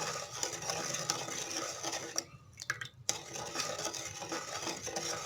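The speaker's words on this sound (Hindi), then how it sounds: "अब हम इसको पहले अच्छे से मिक्स कर लेंगे" A spoon stirring salt into a mixture of white vinegar and water in a tub, quick scraping swirls with a brief pause in the middle before the stirring resumes.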